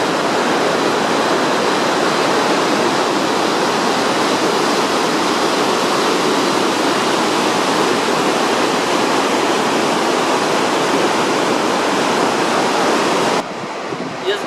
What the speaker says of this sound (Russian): шум молочной реки Дудкоши не перебивает звук